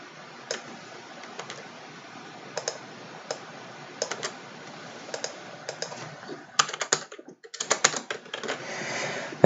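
Someone types on a computer keyboard close by, with sparse single key clicks at first, then a faster, denser burst of keystrokes near the end.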